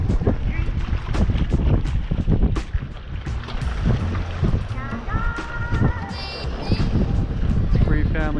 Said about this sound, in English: It is windy as heck out here.